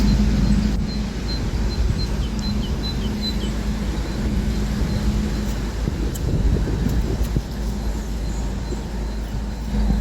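Wind blows outdoors by a canal boat, a steady loud rush and rumble buffeting the microphone throughout, with no voices.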